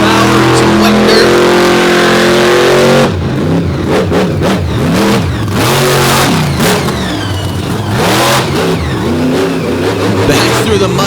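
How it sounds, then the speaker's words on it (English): A mud bogging truck in an all-star championship final roars at full throttle through wet dirt, its loud engine revving hard and surging in repeated bursts, raw and continuous throughout. "Old school mud bogging, just raw horsepower and some wet dirt."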